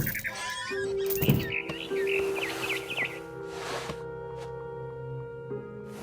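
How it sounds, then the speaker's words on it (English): Barn swallow chirping in What Remains of Edith Finch, a series of quick high twittering calls near a nest over a soft sustained musical tone and light background sounds. "Then I heard chirping outside my window. It was a barn swallow going back to her nest."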